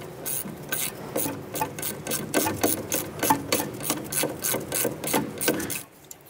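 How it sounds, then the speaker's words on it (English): Ratchet wrench with a 10 mm socket working a bolt on an ABS wire bracket of a 2008-2012 Honda Accord, a rapid series of close, sharp ratcheting clicks in rhythmic bursts that stop abruptly at the end. "Using a 10 millimeter socket, let's go ahead and loosen and remove this bolt right here for our ABS wire"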